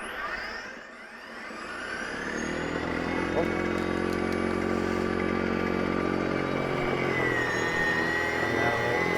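Ego 28-inch two-stage electric snow blower running steadily with a continuous motor whine and broad whooshing hum that swells after a brief dip, loud and close throughout.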